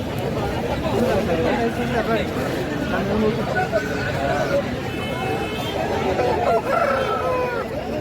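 Country rooster crowing at a busy village market, repeated crows and clucks from nearby fowl over a steady crowd babble, with people talking close by.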